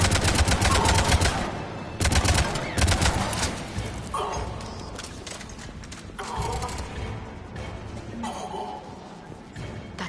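Gunfire in the video game Mass Effect 2: loud rapid automatic bursts, dense at first and then in shorter spaced volleys over a busy combat background.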